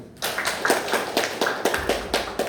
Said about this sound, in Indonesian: Tepuk tangannya Bapak Ibu.